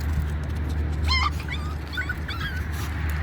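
Month-old Cane Corso puppies whimper and yip in a few short, high, wavering cries near the middle, over a steady low hum of indoor background noise.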